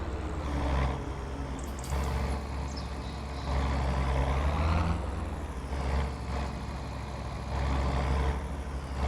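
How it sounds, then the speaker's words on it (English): A tractor engine in Farming Simulator 25 drones loud and steady, a deep low rumble that swells and eases in several surges, heard alone without talk. "This tractor's really super loud."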